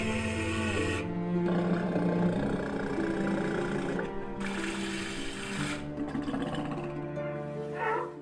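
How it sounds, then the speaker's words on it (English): Walrus vocalizing, a loud, continuous stream of deep roaring and groaning calls with shifting tones, heard up close and alone for about eight seconds. "Walrus."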